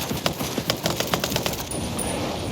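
Rapid bursts of AK rifle fire in Ghost Recon Breakpoint rattle out in quick clustered shots over game background noise, moderately loud with no talking.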